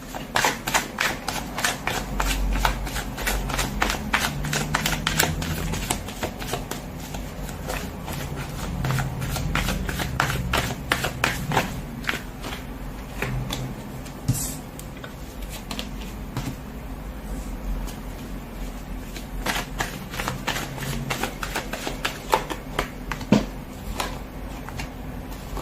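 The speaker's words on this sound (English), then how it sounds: "let's give the cards a shuffle" Tarot cards riffled and shuffled repeatedly in quick bursts, a crisp flutter of cards close by, continuing throughout with brief pauses.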